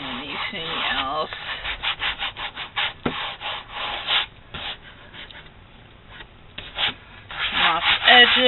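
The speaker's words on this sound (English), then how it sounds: "You can rub it all off, brush it off." Hand rubbing loose bits of paper off a photo canvas, close rhythmic scrubbing strokes that come in quick bursts, pause, and pick up again, with a faint voice at the start.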